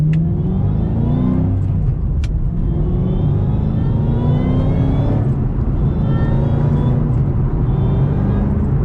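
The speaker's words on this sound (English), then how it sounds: "So you can hear that supercharger whine" A Ford GT500 engine with an X-pipe rumbles loudly while accelerating, with a thin supercharger whine rising in pitch over the roar through successive gears.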